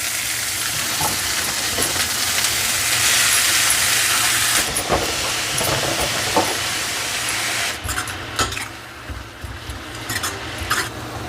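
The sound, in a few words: chopped mustard greens sizzling as they go into the pan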